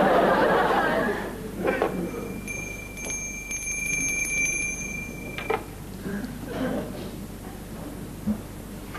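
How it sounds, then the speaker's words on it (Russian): A small handbell rings with bright, sustained high tones for a few seconds amid a murmuring room and people talking and chuckling. "почему я позвонил в колокольчик?"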